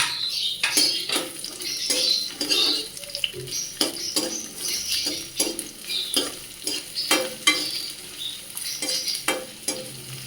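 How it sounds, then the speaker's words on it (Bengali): Chopped onion and green chili frying in about a spoonful of hot oil, a close crackling sizzle broken by repeated scraping and clinking stir strokes from a utensil against the pan, no voices. "তেলটা আমার গরম হয়ে গিয়েছে এর মধ্যে আমি পেঁয়াজ কুচি দিয়ে দিলাম আর লঙ্কার কুচি দিয়ে দিলাম"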